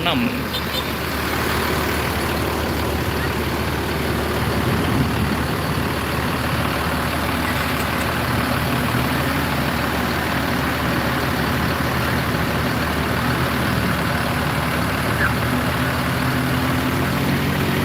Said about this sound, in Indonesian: kita coba dengar ya suara mesin dari 1626